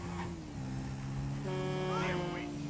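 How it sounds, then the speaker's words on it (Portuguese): A truck horn honking in GTA V, sustained tonal blasts of different pitch under traffic rumble while someone talks. "o caminhão saiu buzinando ali, mano"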